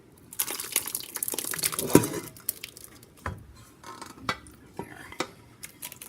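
Sauce being added into a cooking pot, with clattering metal and utensil scrapes, a sloshing pour and scattered knocks, close by, with one brief spoken word.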